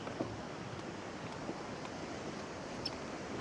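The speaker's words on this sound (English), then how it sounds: "at this time of night, you've got the waves coming in" Ocean waves roll onto a beach on the Costa Blanca South on a warm September evening, heard as a steady broadband wash with soft surges and some wind noise across the microphone.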